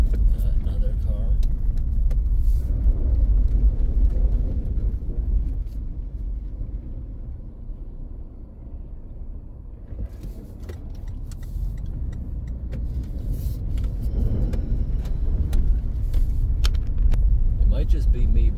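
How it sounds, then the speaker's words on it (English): A car drives past on a snowy woodland road, its rumble swelling, fading, then rising again as another vehicle approaches, all heard from inside a moving car. "Another car."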